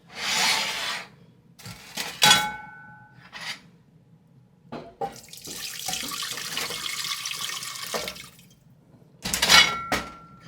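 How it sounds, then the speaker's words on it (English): Excess beef bouillon juices poured off from a pan, giving splashy liquid bursts and trickling pours with clinks of glass or metal between them, alternating with quieter pauses. "I'm gonna pour a little bit of that off."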